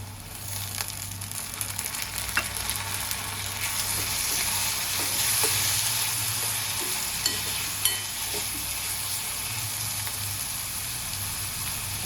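Chopped onion and tomato sizzling in a pan while being stirred, a continuous close frying hiss with scattered spoon clicks and scrapes, no speech over it.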